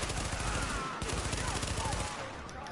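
Rapid bursts of automatic gunfire in the video game Tom Clancy's The Division, loud and dense, with brief pauses between volleys and a voice talking faintly underneath.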